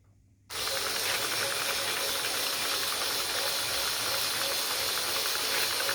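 A yarn-winding machine spins steadily, giving a loud, continuous whirring hiss with a fine ratcheting texture that starts abruptly after a brief silence and runs without pause.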